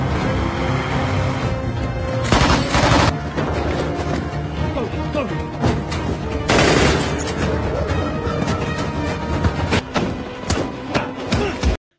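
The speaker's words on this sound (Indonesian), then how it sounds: "beberapa pasukan pembunuh langsung memberondong peluru ke arah mereka, menewaskan Carlos dan keluarganya" Rapid bursts of gunfire crackle through a loud, dense action-movie soundtrack, with heavy blasts near the start and middle and a steady rumbling score underneath.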